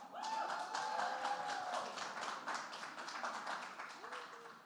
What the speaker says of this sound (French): une main d'applaudissement pour Sarah